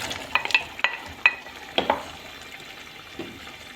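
Cubed potatoes added to a pot with tomatoes for moussaka, scraped and stirred, with a series of sharp utensil clacks against the pot over a soft, low sizzle.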